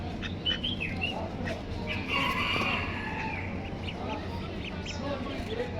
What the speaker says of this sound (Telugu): బాతులు, బాతు పిల్లలు.